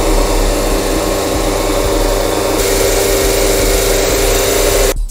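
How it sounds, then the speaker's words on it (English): The vacuum suction device on a Recontech 1312 CNC machine runs with a loud, steady whirring drone, unbroken for about five seconds before it cuts off abruptly at the end. "this is the button you should press in order to activate the vacuum suction device"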